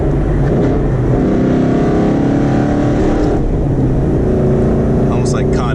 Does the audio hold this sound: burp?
no